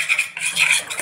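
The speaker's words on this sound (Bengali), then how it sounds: "এবার ইনোটা দিয়ে ভালো করে মিশিয়ে নেব।" Eno stirred into dhokla batter in a bowl, with a brief, soft wet whisking and scraping lasting about a second, close and quiet.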